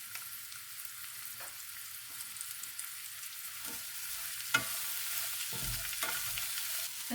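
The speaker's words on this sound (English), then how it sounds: "just let the liquid reduce down to sticky chutney" Red onion chutney liquid reducing in a pan with seeds added, giving a soft, steady sizzle and bubbling close by, with a few light stirring clinks and knocks, and no voices.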